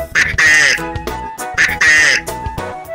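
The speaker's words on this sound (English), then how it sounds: "And ducks quack, quack, quack all day." Duck quacking on a farm in a children's nursery rhyme, two bursts of loud nasal quacks repeated in a steady pattern, close and prominent.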